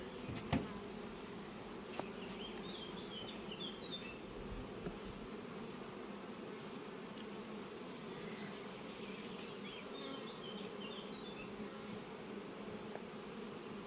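Steady buzzing of many honeybees around a hive at a queen-rearing apiary, a constant insect drone with a few brief clicks and knocks near the start.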